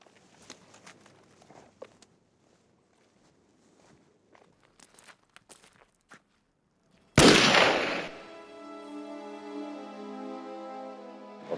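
A firing squad's rifle volley cracks out as one sharp, loud blast that rings and echoes into a decaying hum, preceded by quiet scattered footsteps and shuffling.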